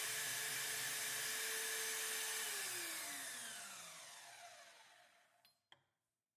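Metal crosshead rail pieces held in a vise are machined with a loud, steady whine that slowly drops in pitch and fades as the machine spins down, ending in a couple of brief clunks.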